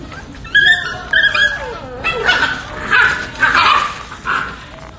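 A large dog barks and whimpers up close: a couple of sharp yips, then a run of whining, whimpering cries.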